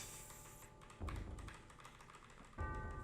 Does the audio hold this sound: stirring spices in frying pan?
no